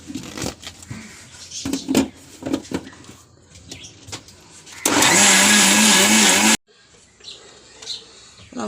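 Loud electric mixer-grinder whirring as it grinds grated coconut for a Kerala-style fish curry, a steady burst of almost two seconds that cuts off abruptly, with kitchen clatter and voices around it.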